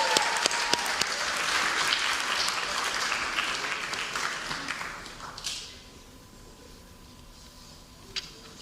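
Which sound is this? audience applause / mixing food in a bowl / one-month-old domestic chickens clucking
audience applause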